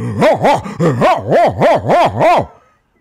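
A man imitates a dog barking with his voice, giving eight rhythmic, evenly spaced woofs in a close, loud burst, then falling silent.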